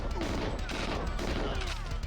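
Dense, continuous gunfire in the Xbox Live Arcade version of GoldenEye 007 rattles at close range, a loud, steady barrage of overlapping shots with no break.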